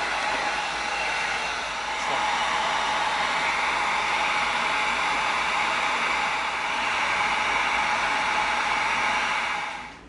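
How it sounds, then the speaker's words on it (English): Heat gun blowing hot air to seal EVA foam, a steady loud rushing hiss that runs continuously for about ten seconds before shutting off. "All right, let's get this thing heat sealed."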